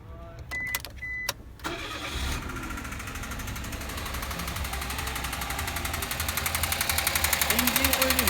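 A car engine with an abnormal knocking fault is started and left idling, a few sharp clicks giving way to a steady running drone with a rapid rhythmic tapping that grows louder over time.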